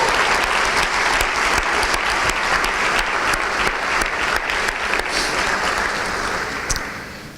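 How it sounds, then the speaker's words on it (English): Steady audience applause for community volunteers at a Port Coquitlam volunteer awards event, dense sustained clapping from a crowd that holds even and then fades at the end. "Can we give them all a round of applause,"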